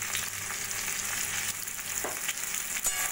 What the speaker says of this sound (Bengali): সজনে ডাঁটা দিয়ে 2-3 মিনিট মতো ভাজা ভাজা করে নিয়ে